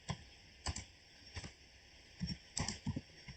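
Keyboard keys tapped at a computer while entering an install command during an EPrints 3.4.6 server setup, a few quick clicks in short clusters, close and fairly soft, with no talking.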